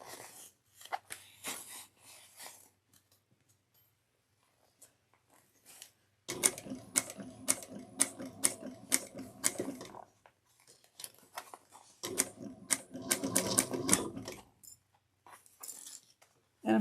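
A sewing machine stitches a zipper onto a sling pack, running in two steady, rapid bursts of close, rattling stitching separated by quieter handling and clicks.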